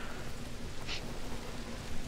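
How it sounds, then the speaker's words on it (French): Rain pours steadily in the zombie game Dead Island: Riptide, a dense hiss with one brief sharper spatter partway through. "Tu te bats avec là sous la pluie."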